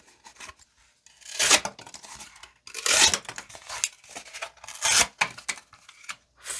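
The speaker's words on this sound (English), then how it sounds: "Let's close it up with some box cutting." A CRKT Compact Tuna EDC folding knife slices through a cardboard box with several close, loud, rasping tearing strokes separated by brief pauses.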